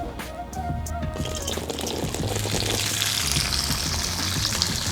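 Small shallots tipped into hot oil in a pan, a sudden splash giving way to a loud, continuous sizzle and crackle close up, building and holding steady.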